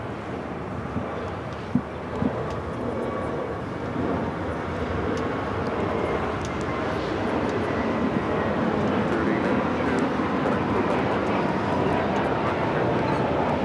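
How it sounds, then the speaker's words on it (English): Spirit Airlines Airbus A320neo on its takeoff roll at LAX, a broad steady engine roar that slowly builds in loudness, heard from a distance with wind noise. "This is Spirit Airlines 892 taking off to Newark on the A320neo."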